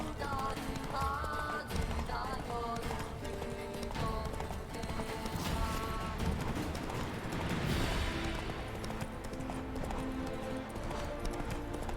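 Roach, the horse in The Witcher 3 video game, gallops steadily through grass, with rhythmic hoof clip-clop layered under continuous game music and ambience, loud and close throughout.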